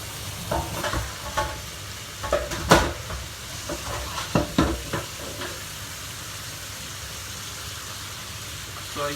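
Adobong pusit, squid adobo, being stirred in a pan: scraping, clacking strokes of a spatula in an uneven rhythm over a steady close sizzle, the stirring easing off toward the end.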